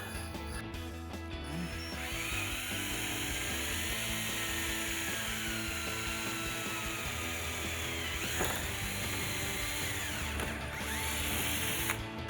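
A power drill bores through the steel of a 2010-2013 Camaro's trunk lid while a rear spoiler is fitted, making a steady, loud grinding whine that holds for about twelve seconds with slight shifts in pitch.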